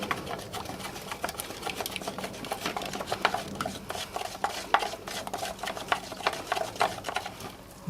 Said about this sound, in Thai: จากนั้นคนส่วนผสมให้เข้ากันก่อน